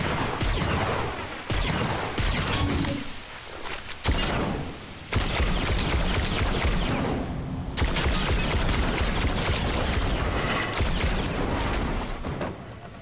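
Rapid bursts of gunfire in the video game Fortnite crackle in repeated volleys, some separated by short gaps, loud and busy throughout with no talking.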